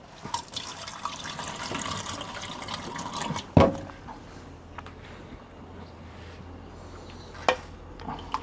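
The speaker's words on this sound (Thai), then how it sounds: "เทน้ำออก" Liquid is drained from Thai pickled vegetables after one night of pickling: a soft, steady trickle of pouring water with a sudden splash midway and a smaller splash near the end.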